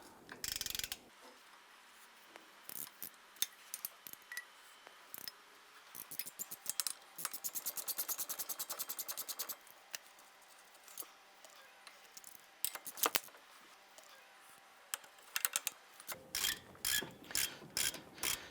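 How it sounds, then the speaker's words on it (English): Ratchet wrench clicking as it loosens the two 17mm caliper bracket bolts on the front brake of a 2012–2017 Toyota Camry; bursts of rapid close pawl clicks repeat across the clip with short pauses between, and no talking. "we're going to have two 17mm bolts. Let's go ahead and loosen and remove those."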